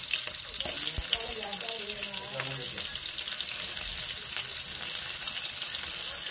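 Onions frying in hot oil in a home kitchen, a steady broadband sizzle that holds through the whole stretch, with a few faint clinks and no talk over it.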